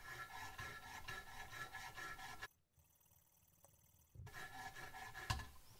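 Rhythmic rasping strokes of a chisel being sharpened on a 200 grit stone of a Wicked Edge sharpening system, repeated close rubbing passes that pause for a quiet stretch midway and then resume.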